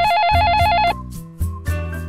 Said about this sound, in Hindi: घरवाली का फोन है।